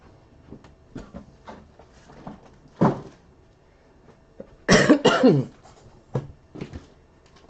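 Several short, harsh coughs burst out, one loud cluster of hacking in the middle, separated by quiet pauses and faint room noise.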